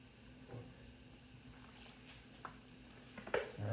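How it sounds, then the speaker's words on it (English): Raw pork is rubbed with flour, salt and vinegar, giving soft wet squishing and faint patting sounds at a quiet level, with a few light clinks near the end and no talk. "we're gonna go ahead and wash our pork with some flour, some salt, and some vinegar"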